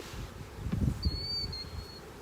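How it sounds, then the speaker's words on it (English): Honey bees buzz around freshly built nucleus hives in a soft, steady drone, close by, with a brief higher whine from one bee passing near. "Bees have had just about enough of me."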